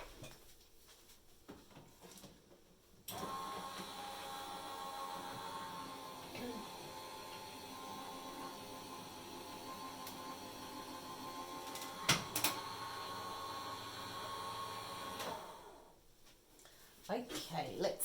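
A hot foil machine steadily whirs and hums as card runs through its rollers for about twelve seconds, with a couple of mechanical clicks near the end and quiet room sound before and after.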